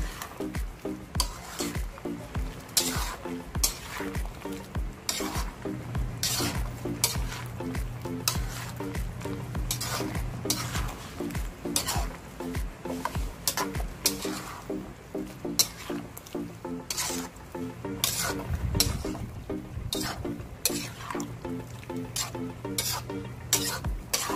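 Hotdog and tofu frying in a pan, a steady close sizzle broken by repeated scraping and clacking of a utensil stirring against the pan throughout, with no talking.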